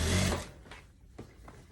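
Sewing machine stitching a tweed overcoat: a short, close whir that trails into a few soft clicks and taps.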